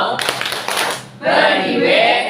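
A group at a positive-discipline training session claps in the rhythmic "tepuk wow" chant, a short burst of quick, close claps that gives way to voices calling out together.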